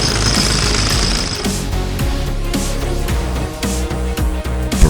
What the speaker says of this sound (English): Even when facing tricky reinforced concrete, it drills through smoothly.